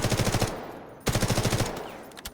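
Two rapid automatic bursts from a low-recoil weapon in the shooter game Delta Force, about eight shots each, separated by a short pause, loud and close with no voice over them.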